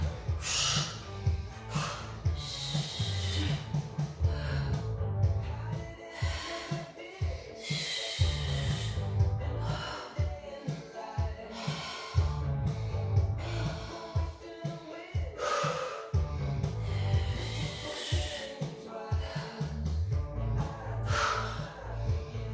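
Steady in-and-out breathing during an upper-body and abdominal workout, repeated in regular bursts of breath over a constant low background hum.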